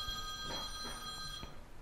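A phone ringing in a home study room, its steady electronic tone continuing under faint background bumps and movement, without speech.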